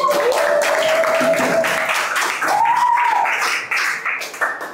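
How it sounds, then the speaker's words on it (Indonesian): Classroom students clapping their hands together in unison, dense clapping mixed with children's excited voices and shouting throughout. "Tepuk tangan buat kita semuanya."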